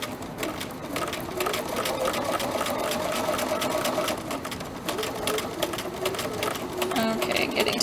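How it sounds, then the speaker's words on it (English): A sewing machine runs steadily through fabric, a dense rapid rattle of stitching that carries on without pause up to the edge of the piece, close and fairly loud. "When you get to the end, you will just sew right off the piece of fabric"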